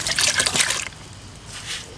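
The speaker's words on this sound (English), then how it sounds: "make sure you wring it out, clean up underneath it" A wet sponge is wrung out after cleaning up beneath a stone step, with water trickling and splashing in a short, close burst that fades into a quieter dribble.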